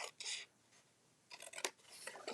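Scissors or a blade cut along the side of a cardboard box, close, quiet crisp snipping and scraping strokes in short bursts separated by brief pauses.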